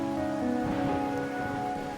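Steady rainfall in the video game Wuthering Waves, a continuous even wash of drops with a soft tonal hum underneath, holding at constant loudness and without any talking.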